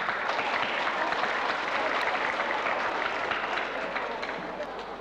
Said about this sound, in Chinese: 應該要拍掌